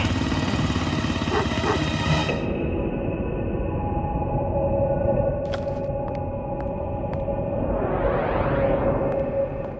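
A motorcycle engine runs steadily and loud throughout, holding a sustained drone with a brief revving swell near the end, as if pulling away; no talk over it.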